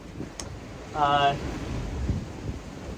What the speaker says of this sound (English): wind's up to 17, 18 knots